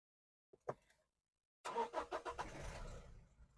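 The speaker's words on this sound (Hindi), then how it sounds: "जब आप गाड़ी स्टार्ट करते हो," A Toyota Innova Crysta engine starts: a couple of faint clicks, then the starter cranks in rapid pulses and the engine catches into a steady idle rumble, close by.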